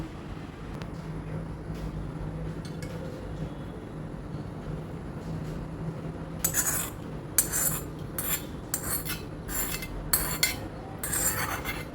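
Chillies for a lemon-chilli pickle are mixed with cooled oil, a spoon clinking and scraping against the bowl in quick bursts over a low, steady room background.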